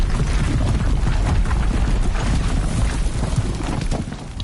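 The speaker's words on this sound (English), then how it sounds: "that is a pretty big explosion." A big explosion in the video game Horizon Zero Dawn roars as a dense, loud, continuous rumbling blast with deep booming low end that stays sustained for several seconds without easing.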